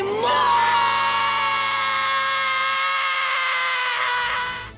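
Gohan's long, powerful scream from the Dragon Ball anime, a single sustained loud shout with rising strained pitch held for several seconds over orchestral score before fading out at the end.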